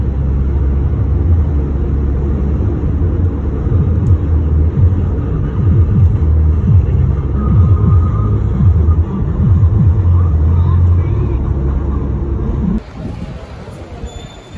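A car on the road to Hyderabad, heard from inside as a steady low engine and road rumble, close and constant, before the drone drops away near the end.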